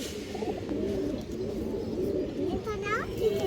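Pigeons from a breeder's collection of paired flying pigeons coo steadily in soft, repeated rolling calls close by, with voices and background noise mixed in.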